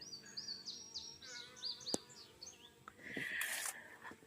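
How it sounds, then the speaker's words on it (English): Honeybees buzz around a garden water source on a farm, faint intermittent drones coming and going amid chirping birds, with a louder buzzy burst near the end and no talking. "the honeybees are loving our water source here. You hear them buzzing all around."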